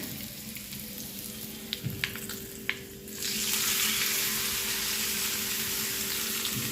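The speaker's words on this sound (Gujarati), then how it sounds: "હવે આપણે વઘાર નાખી દેવું તપેલામાં" Hot tempering of oil with red chillies, bay leaves and curry leaves poured into a pot for handvo bursts into a loud, steady sizzle after a few small clicks and taps.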